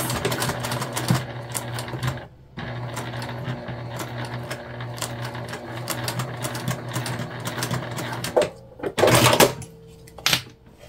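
A sewing machine bastes fabric with a steady, close, rhythmic whirring stitch, pausing briefly and then resuming, and ends with a few louder clunks and handling noises.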